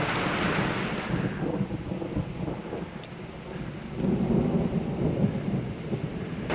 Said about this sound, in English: Unexpected storm, y'all! Oh man, we're getting some rain.